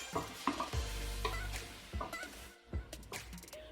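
Fresh ginger and garlic fry in hot oil in a pan for chicken biryani, a busy sizzle broken by repeated stirring scrapes and knocks, close and fairly loud with no talking.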